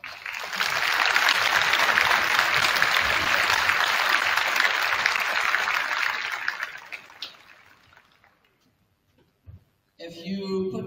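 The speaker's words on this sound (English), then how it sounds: "Let's give all the students who performed tonight a round of applause." A school concert audience bursts into sustained clapping for student performers that holds steady for several seconds, then tapers off into near silence before a brief murmur returns.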